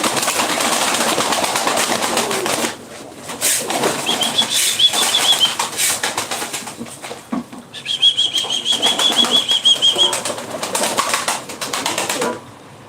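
Pigeons beat their wings in repeated bursts of close flapping, with brief thin calls in two stretches and a short lull between.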